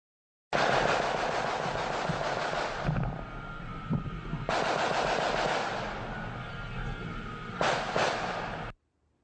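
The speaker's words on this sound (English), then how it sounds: "Now, that is the sound of semi-automatic gunfire." Bursts of rapid gunfire ring out in long sustained volleys separated by short pauses, loud and echoing, with no talking.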